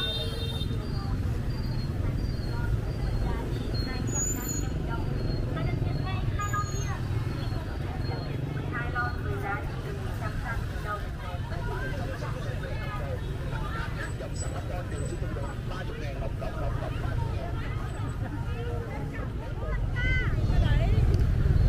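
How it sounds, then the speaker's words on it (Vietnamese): Busy traffic flows along Nguyen Van Linh street, with cars, motorbikes and container trucks making a steady roar and engine drone. Voices murmur over it throughout, and the noise swells near the end. "đây là dọc đường Nguyễn Văn Linh nơi lưu thông có rất nhiều ô tô, xe máy rồi ờ, xe container"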